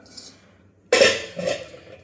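Metal tea pots are stacked one inside another in a home kitchen, making a sudden loud clatter followed by a second lighter clink, close by with quiet between.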